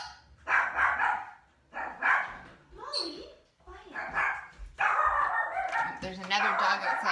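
A pet dog barks in repeated loud bursts in a home, reacting to another dog outside nearby, with short pauses between volleys and a longer run of barking near the end.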